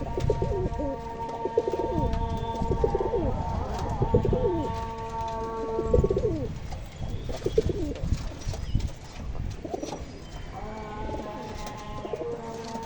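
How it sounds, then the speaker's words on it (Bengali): Two Andra pigeons, kept as top-quality tournament birds, coo repeatedly in rolling, close overlapping calls, with occasional wing flutters and steady bird activity throughout. "এই দুটো আন্দ্রা পায়রা রয়েছে"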